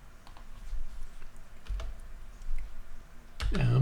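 Keys on a computer keyboard tap out a few scattered, light clicks in a quiet room, with a louder bump near the end.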